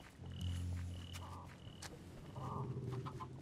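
Frogs croak in low, drawn-out calls with a few higher chirps mixed in, set against a quiet, evenly humming night ambience in a swamp level of Minecraft Dungeons.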